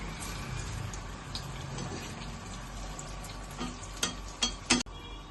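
Potato cheese balls frying in hot oil give a steady, close sizzling hiss, with a few sharp clinks and scrapes of a utensil near the end as they are lifted out.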